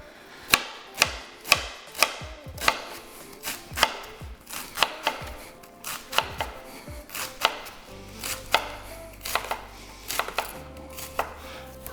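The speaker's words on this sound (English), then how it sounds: "So I'm just gonna cut this cabbage up." A knife chops cabbage on a cutting board for albondigas meatball soup, giving a steady run of crisp, close thuds at an even rhythm with no talk.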